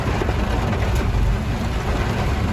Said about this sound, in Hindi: जेहेतु वर्षा बहुत जोर है